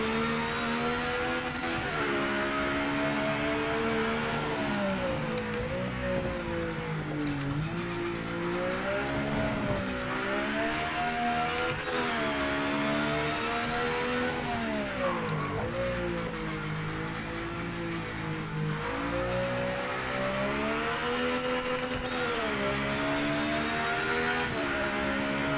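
A hypercar engine in the Project Motor Racing racing game drones steadily throughout, its pitch rising and falling as it revs through gears, loud and continuous with faint tire noise and no talking.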